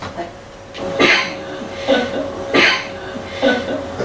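Coughing in a Victorian house rings out as several short, harsh bursts spaced roughly a second apart, moderately near, over a faint steady background hum.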